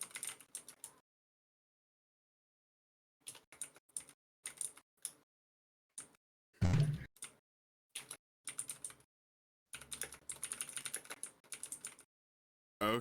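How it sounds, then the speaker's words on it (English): Several people type on computer keyboards in short irregular bursts of quick clicks separated by silences, with one louder thump midway, close and quiet. "We're all typing our shopping lists."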